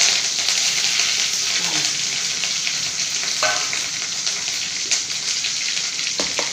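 Mustard seeds, urad dal, onion and curry leaves sizzle steadily in hot oil during a home-style tempering, a continuous bright crackle with occasional stirring scrapes and small pops, no voices.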